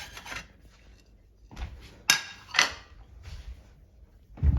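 A glass plate picked up and set down, several close clinks and scrapes of glass against a hard surface, with short rubbing sounds and quiet gaps between.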